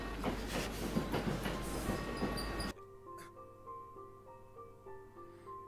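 A train pulling into a station in the anime Steins;Gate: a loud, close rushing rumble for almost three seconds that cuts off abruptly, leaving quieter tonal station sounds.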